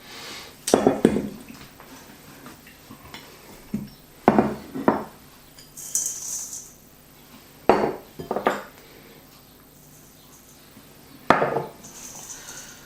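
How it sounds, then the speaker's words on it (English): Sausage mince being mixed by hand in a large bowl gives scattered soft squelches, slaps and knocks against the bowl, with a few louder bumps separated by quiet gaps. "So get a bigger bowl and mix everything together."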